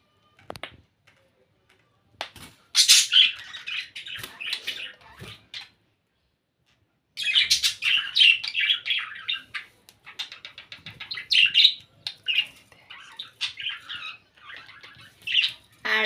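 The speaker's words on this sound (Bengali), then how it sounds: "এই যে আমাদের হলুদ পাখি এই হলুদ পাখি জোড়া খুব শীঘ্রই ডিম দিবে" A pair of pet yellow birds in a cage chirp and squawk in short bursts with brief pauses, close and fairly clear against a quiet room.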